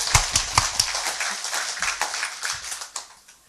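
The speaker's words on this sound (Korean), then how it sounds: "박수 한번 쳐" A congregation claps together at a Sunday afternoon church worship service, a dense burst of hand claps with sharp repeated strikes that fades out near the end.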